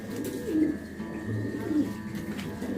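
Pigeons in a loft of old red pigeons cooing softly nearby, two low throaty coos about a second apart over faint background murmur.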